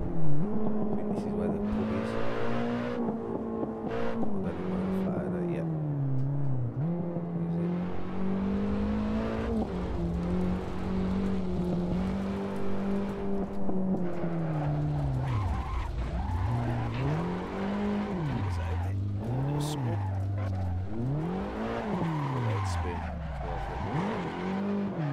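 A car drifts in the Assetto Corsa video game, its engine droning and revving with long swooping tire squeals that rise and fall, while a person talks over it.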